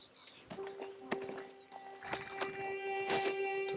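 Horse hooves clip-clop in Red Dead Redemption 2, a handful of uneven hoof strikes among game sounds, with a faint whinny and a rider talking over them.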